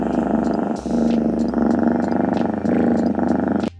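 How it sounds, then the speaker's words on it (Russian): A smart speaker voice assistant plays a cat purring sound, a continuous rumbling, pulsing purr in several rhythmic breaths, loud and close, ending abruptly. "Маруся, помурлыч."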